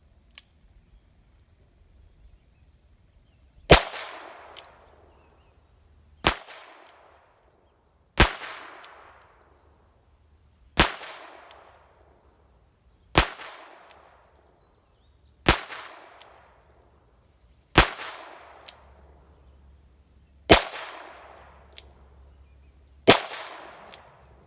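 Nine sharp gunshots from a PUCARA .22lr nine-shot revolver, fired one at a time at a steady pace of about one every two to three seconds, each loud crack followed by a short ringing decay. No talking.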